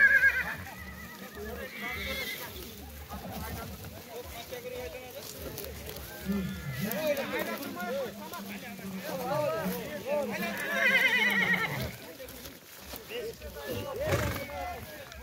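Horses come in at the finish of a 15 km rural horse race, with whinnies and a lively crowd, a busy outdoor mix of voices and shouting over the animals.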